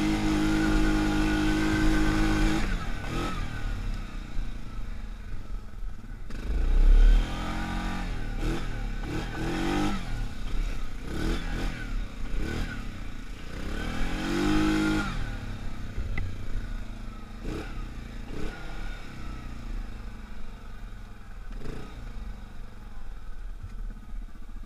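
A Yamaha Grizzly ATV in two-wheel drive climbs over rocks, its engine droning close and steady with repeated throttle surges and revving swells, plus occasional knocks from the terrain.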